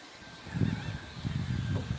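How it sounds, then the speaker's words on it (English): Seagulls call near fishing boats and a fishery at the Apalachicola, Florida waterfront, squawking a few times over steady outdoor ambience. "You can hear the seagulls out there."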